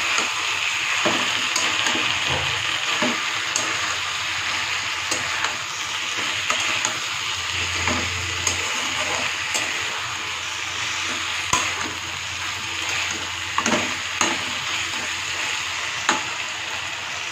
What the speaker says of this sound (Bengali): মশলাটাকে ভালো করে কিন্তু কষিয়ে নিতে হবে, অনেকক্ষণ ধরে মশলাটা কষিয়ে নেব।